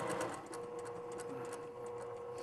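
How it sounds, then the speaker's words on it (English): Sewing machine stitching minky and rayon fabric together, a steady close whirring run with a faint rhythmic ticking, no talk. "you can see how wonderfully actually the minky and the rayon sew together"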